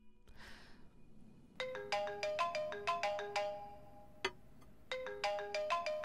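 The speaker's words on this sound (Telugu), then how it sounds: "ఇంటి నుంచి ఫోన్ వస్తోంది." A mobile phone rings with an incoming call from home: a bright, melodic electronic ringtone of rapid repeating note patterns, loud and close, pausing briefly and then starting again.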